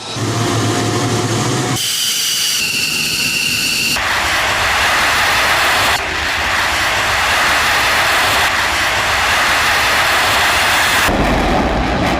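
An Israeli fighter jet flies with a loud, sustained roar that fills the whole stretch, broken by a few abrupt shifts in tone as if separate passes were cut together. No voices are heard.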